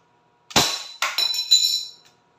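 A Crosman P10C Phantom CO2 air pistol fires a single sharp, loud crack, followed by a couple of bright ringing clinks that fade within about a second.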